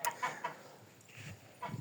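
A few soft, short clucks from chickens, fairly quiet, in quick irregular bursts.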